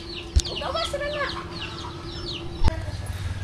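Chickens cluck in a farmyard in short bursts, with a few sharp knocks nearby and a steady background hum.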